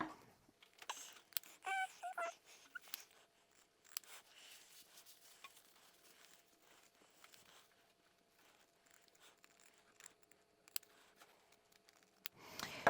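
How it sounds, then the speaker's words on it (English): Scissors snip through sewn fabric as a reusable cloth pad's seams are trimmed, with quiet, scattered cuts and soft rustling at low volume throughout. "Okay, so I just go around carefully, making sure that I'm not cutting off too much."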